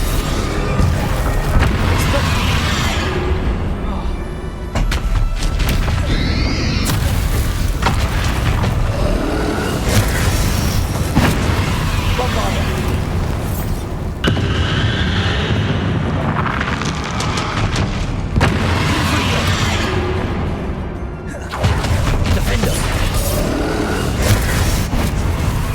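Bombarda and Confringo spells from Hogwarts Legacy go off as loud booming blasts, several heavy detonations in a row with rumbling tails and brief gaps between bursts.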